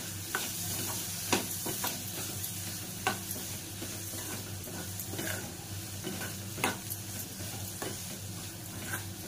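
Brinjal pieces go into spiced oil and sizzle steadily while a spatula scrapes and stirs the pan in repeated, irregular strokes, close and moderately quiet.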